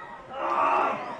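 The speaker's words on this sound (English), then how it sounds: "Someone not agreeing with the umpire in the crowd" A spectator in the crowd at a TAC Cup football match, Gippsland versus Geelong, yells at the umpire, a single loud shout swelling out of general crowd noise.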